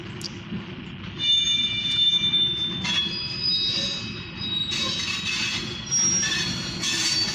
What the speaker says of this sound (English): We got a short grain hopper train going towards the well station.